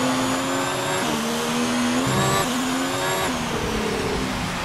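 A loud, steady Formula 1 race car engine roars in the F1 2019 video game, its pitch climbing and then dropping sharply at each gear change, with no break across the lap.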